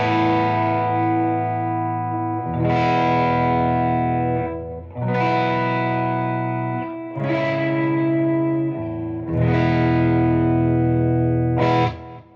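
Electric guitar through a Carstens Amplification Warm Machine amp rings out in four sustained, distorted chords with chorus-like shimmer, each struck and left to ring before the next, loud and close with no talking.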